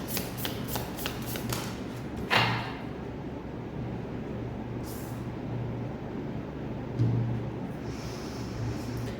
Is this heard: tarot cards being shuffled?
yes